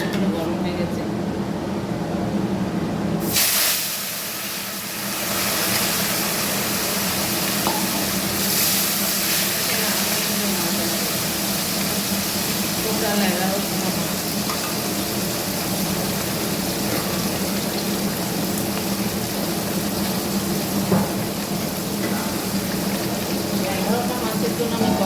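Bata fish fries in hot oil with a steady, dense sizzle and hiss that runs on continuously, briefly dipping once early, while a person talks over it.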